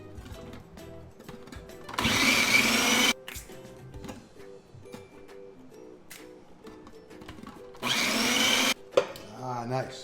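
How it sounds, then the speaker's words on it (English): Onions being ground for gefilte fish in an electric food grinder, which runs in two loud, dense whirring bursts separated by quieter stretches of handling noise and background tones. "A really important ingredient of the gefilte fish is the onions, and so we're gonna grind the onions."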